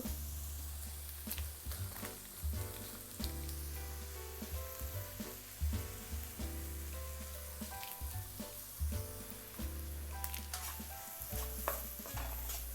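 A utensil whisking and scraping around a pan where black pepper and a Maggi cube have just been added, quiet rhythmic stirring clacks over a faint sizzle, with no voices.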